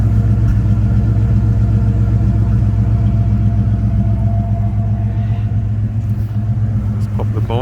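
A 1967 Ford Mustang coupe with a 289 V8 idles with a deep, steady exhaust rumble, loud and close, holding an even throb throughout with no talking.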